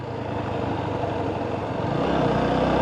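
A motorcycle runs along a highway between Dinajpur and Rangpur, its engine a steady, close rumble blended with wind noise that grows slightly louder toward the end, with no talking.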